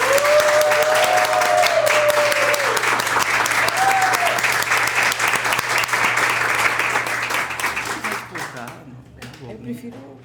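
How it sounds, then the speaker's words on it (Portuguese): An audience at a poetry evening claps warmly as a guest is called to the table, steady full applause with a voice briefly heard over it, then tapering off into quiet with low murmuring talk. "Palmas."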